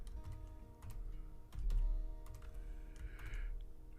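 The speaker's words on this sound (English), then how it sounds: "Bear with my typing right here." Typing on a computer keyboard indoors, a quick uneven run of close clicks and taps over a low hum, without speech.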